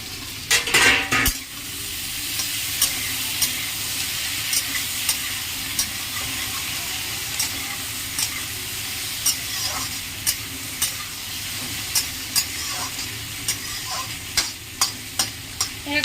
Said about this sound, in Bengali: একবার নাড়িয়ে নেব এরকম